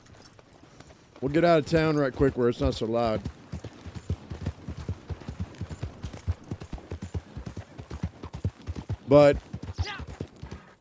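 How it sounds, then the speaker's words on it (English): Horse hooves clip-clopping at a steady, rapid rhythm throughout in the Western video game Red Dead Online, with a horse whinny near the start and another near the end, under someone talking. "Let me get my horse real quick."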